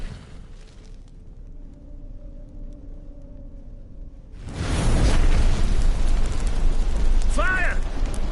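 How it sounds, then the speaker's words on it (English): A sudden loud roaring burst of fire and flames erupts after a quiet stretch in The Witcher 3, sustained rumbling blaze with a voice shouting over it. "Fire! In here, quickly! The flames! Douse the flames!"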